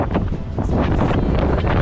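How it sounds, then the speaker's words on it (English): Strong wind buffets the microphone on a seaside promenade in Warrnambool, a steady loud roar with gusty rumble throughout and no voices. "It's windy as"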